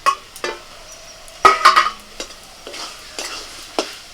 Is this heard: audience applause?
no